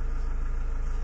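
A car engine idles steadily with a low, even pulsing rumble, close and continuous, with no talk over it.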